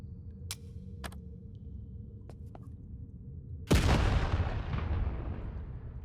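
A frag grenade goes off in the game Vein: one sudden loud blast after a few faint clicks over a low rumbling backdrop, its roar trailing off slowly over the following seconds.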